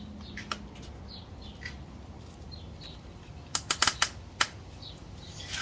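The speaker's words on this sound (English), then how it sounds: "And you can hear it ratchets." Plastic zip tie on a Yamaha Super Tenere motorcycle fork being pulled tight, a quick burst of several sharp, close ratcheting clicks in rapid succession after faint quieter chirps, with no one talking.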